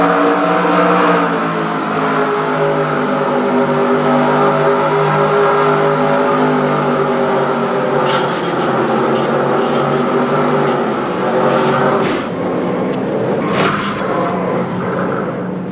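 An IndyCar engine in a racing video game, heard from the onboard cockpit view, drones loud and close with steady high revs, shifting pitch as the car accelerates, brakes and changes gear, with a few sharp clicks and knocks.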